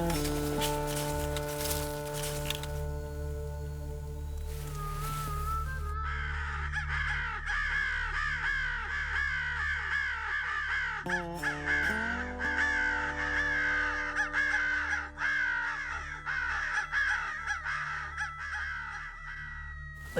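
Crows cawing loudly and repeatedly during a crow hunt on public land in winter, a dense flock of harsh overlapping calls close by, with a few louder bursts partway through.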